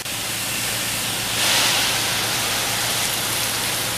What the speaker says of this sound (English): So now I'll give it a little rinse.